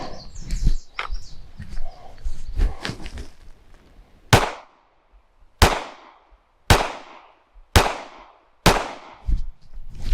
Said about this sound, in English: now I'm going to draw one time and I'm going to shoot 5 shots into the number 5,